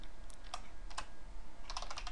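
Keys clatter on a computer keyboard during Qt C++ programming, several quick clustered bursts of clicks separated by brief pauses, close and fairly loud over a steady low hum, with no talking.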